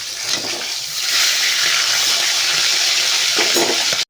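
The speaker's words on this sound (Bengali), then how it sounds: "মাছের মাথাটা যখন ভাজবেন অবশ্যই সাবধানতা অবলম্বন করে মাছের মাথাটা কিন্তু ভাজতে হবে" A salted, turmeric-rubbed fish head frying in hot oil, a loud dense hiss and crackle that stays constant throughout before cutting off abruptly.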